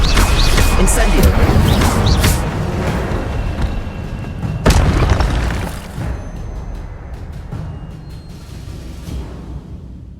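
Incendio fire spell explosion in the video game Hogwarts Legacy: a loud, broad roaring blast with crackling that fades out over several seconds, with a sharp burst midway, set among game sounds and speech.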